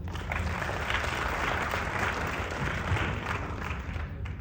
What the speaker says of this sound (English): Clap for him also.